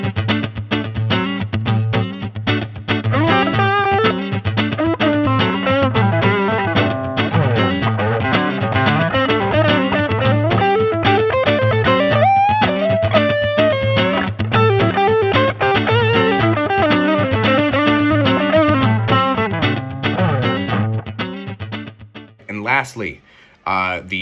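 Electric guitar played through a Line 6 HX Stomp on a preset with '63 spring reverb, a loud continuous stream of chords and notes with a reverb wash, cutting off abruptly near the end.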